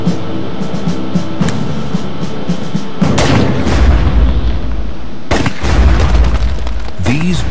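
Rifle shots strike artificial asteroid stand-ins outdoors, producing several loud sharp cracks and booms with rumbling impacts separated by brief pauses.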